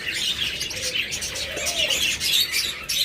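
Pet finches in a bird shop chirp continuously in dense, overlapping high tweets, with a brief low cooing note rising in the middle.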